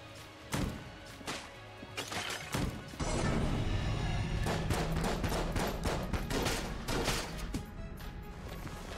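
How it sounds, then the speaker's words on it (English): Rapid gunfire from the top-down roguelike shooter Enter the Gungeon, a run of sharp overlapping blasts and impacts that starts sparse, then becomes a dense, steady barrage lasting several seconds, loud and up close with no talking. "I think the shotgun is actually pretty good here because it fires pretty quickly"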